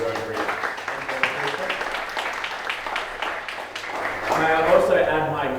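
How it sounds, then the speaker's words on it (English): Applause at a citizenship ceremony to thank the organising Rotary club, many hands clapping in a dense, steady wash, with voices rising toward the end. "A round of applause for Rotary."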